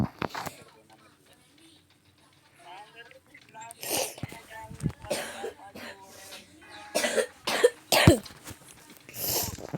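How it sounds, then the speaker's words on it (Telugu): A feverish person with a cold coughs several times in short, sharp bursts, near and fairly loud, interleaved with muffled voices and clicking keys during a Counter-Strike gaming session. "అందుకని కొంచెం దగ్గు కూడా ఉంది."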